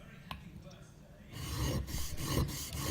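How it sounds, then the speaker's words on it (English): A steel chisel rubbed back and forth on a sharpening stone, a close raspy grinding that grows louder and steadier after a quieter start, with no voices. "So you put it onto the stone, you find the ground angle, then you pick it up ever so slightly for a honing angle"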